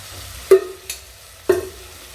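Spices stirred into hot oil in a pan for Tamil-style quail gravy, with two sharp scraping strokes about a second apart, each trailing into a soft sizzle, plus a fainter tap between them.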